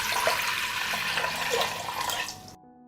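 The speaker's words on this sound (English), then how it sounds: "I pour 850 milliliters of water into the pot." About 850 milliliters of water pours steadily into a cooking pot for a pickling brine, a dense, even splashing rush that stops abruptly at the end.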